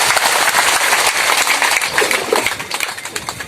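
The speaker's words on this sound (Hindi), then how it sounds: "जोरदार ताली पिता के नाम से।" Congregation at a Christian gathering in Bihar, India clapping loudly together, a dense burst of hand claps that stays strong and then thins into more separate, uneven claps toward the end.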